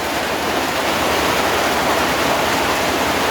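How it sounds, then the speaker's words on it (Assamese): Heavy downpour water pours off a tin roof in a loud, dense, unbroken rush, close by and steady throughout, with no voices. "এইকেইটা চব বৰষুণ পানী হয়, টিনৰ পৰা আহিছে।"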